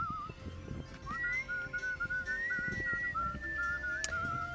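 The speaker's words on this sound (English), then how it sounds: "In the US of A, fog whistles were also used where steam power was available." A steam-powered fog whistle gives a thin, high tone that holds and wavers in pitch for several seconds over a low, rumbling background.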